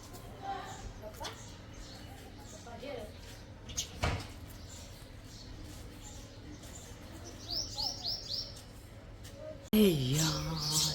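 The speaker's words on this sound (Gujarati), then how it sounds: "જો અહીંયા એક ચકલી આવીને બેઠી છે" A small sparrow perched near a village house on a quiet morning, giving a brief cluster of high, light chirps partway through amid faint rural background noise and a few knocks.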